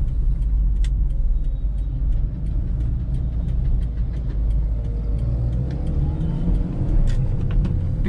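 A used Maruti Ritz petrol small city car driving and accelerating, heard from inside as a steady low engine hum and road rumble, with a few faint clicks and ticks over the drone.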